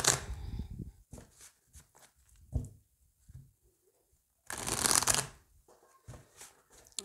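Oracle cards are shuffled close by in soft, quiet riffles and slides, with short bursts of shuffling separated by pauses, including one louder flurry midway.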